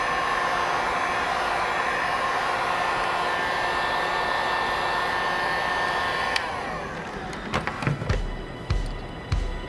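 A hair dryer blows steadily on a car gauge faceplate during an odometer repair, its loud even whoosh running for about six seconds before cutting off, followed by a few sharp handling clicks and knocks.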